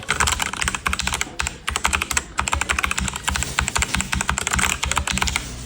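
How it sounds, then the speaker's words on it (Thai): Fast, continuous clacking of a Machenike K500-B94 mechanical keyboard with hot-swappable switches, dense keystrokes rattling close and loud without pause. "Mechanical Keyboard มีไฟแบ็คไลท์สวยงามพสอปเปเบิลถอดเปลี่ยนสวิตช์ได้ เรามาฟังเสียงกันดูสักหน่อย"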